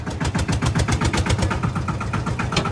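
A Lanz D1266 tractor engine, with a 6-speed transmission and running in third gear, thumps out rapid, even, loud pulses that continue steadily and close by.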